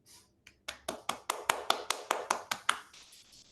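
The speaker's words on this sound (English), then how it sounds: "let us give a round of applause for distinguished Toastmaster Sourav, Dutta, and Toastmaster Dushyanthan" Participants in an online Toastmasters club meeting applaud, with a dozen sharp, evenly spaced claps rising and then trailing off, loud and close to the microphone with no talk over them.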